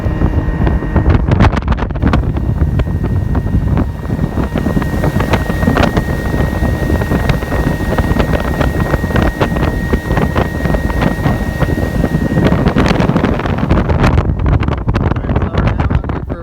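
A motorboat cruising across a lake on a fishing trip, its engine droning steadily and close with heavy wind buffeting the microphone throughout, no talk.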